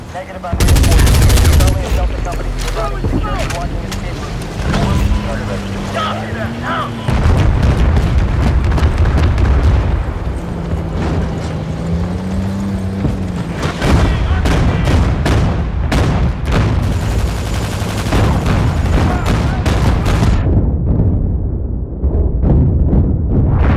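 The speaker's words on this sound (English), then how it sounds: "There's a clip coming up here with the cavalry gun and some light machine guns." A cavalry gun and light machine guns firing in the Medal of Honor Warfighter video game, loud dense bursts of rapid gunfire with heavy thumping booms, continuous and close, ending in a fading tail.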